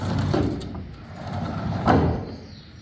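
A heavy sliding horse-barn stall door rolls along its track with a low rumbling scrape, building to a louder thud-like surge near the end.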